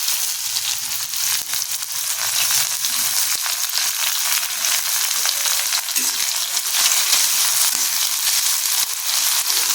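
Onion frying in hot oil tempered with dried red chili and black cumin, a loud, close, continuous sizzle and crackle with occasional stirring, no talk.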